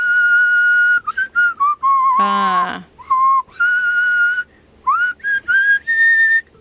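A man whistles a melodic tune from an old Hindi film song, clear and close, in several phrases with short pauses, broken once by a brief buzzy vocal imitation, with a single spoken word.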